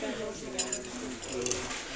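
Ceramic-lidded kitchen storage canisters for tea, sugar and coffee clink and knock as they are handled on a store shelf, with a few light, sharp taps over steady background murmur.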